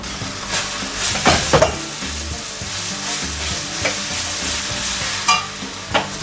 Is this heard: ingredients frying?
yes